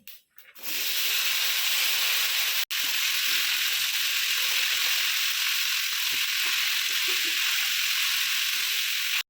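Ash gourd pieces dropped into hot oil already seasoned with dried red chillies and bay leaf, giving a loud, steady, broadband sizzle that runs almost without a break, with a brief gap near the start.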